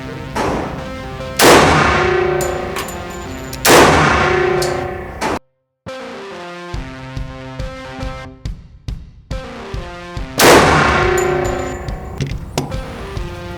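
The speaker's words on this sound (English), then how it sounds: "5 rounds of 230 grain 45 ACP out of the standard barrel of the PT 1911" A Taurus PT 1911 pistol fires 230 grain .45 ACP rounds through its standard barrel: three loud, sharp, close shots spaced several seconds apart, each ringing out with a short decay, with faint clicks and handling noises between.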